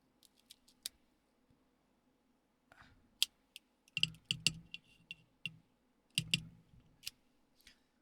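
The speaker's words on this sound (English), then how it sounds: "So we're going to cut a V cut into the cigar." A Colibri V-cut cigar cutter works on a cigar, giving sparse sharp clicks and a few firmer snapping cuts near the mic in an otherwise quiet room, with light handling noise between them.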